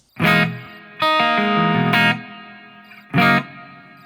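Electric guitar played through a JBL practice amp with a hall reverb effect, heard as loud, close strummed chords with distortion, each ringing out with a smooth reverb tail between strums.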